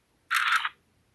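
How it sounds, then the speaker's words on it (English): A single short mechanical click from the shutter button of an AKASO V50 Pro action camera, close and crisp, alone against near silence. "The shutter button's right there."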